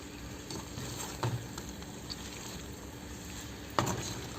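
Fried jackfruit pieces being stirred through a masala curry in a pan, a low steady sizzle with a few soft scraping knocks of the spoon, close and with no voices.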